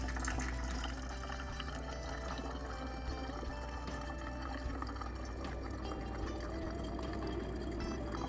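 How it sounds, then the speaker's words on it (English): Hot water pours steadily from a Bunn commercial coffee maker in a continuous, faint gushing stream, with a low hum underneath and no voices. "I'm sure it's boring watching the water pour out."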